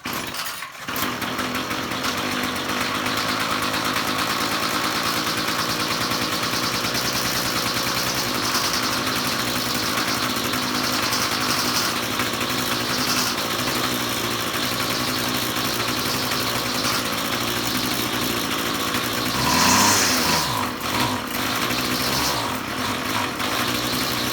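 A small engine idles steadily at close range, a continuous even putter with a brief blip near the end; it dies when throttled up.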